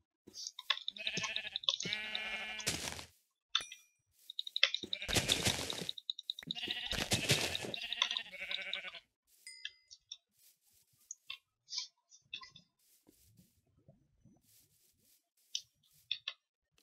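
Sheep in the video game Minecraft bleat in a few loud, close bursts early on, followed by sparse soft clicks and small blips, with no talking.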